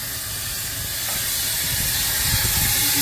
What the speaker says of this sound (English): Turn that on, and it blows steam up.